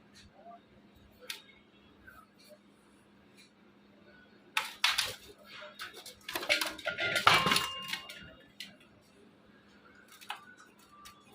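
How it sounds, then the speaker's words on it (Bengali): A knife cutting thick strips of peel from a bottle gourd in a home kitchen, heard as scattered faint ticks and then a cluster of louder scraping, slicing strokes in the middle before quieting again. "তো লাউটাকে আমি একটু কেটে নিচ্ছি, একটু ভারী ভারী করে খোসাটা কেটে নিব"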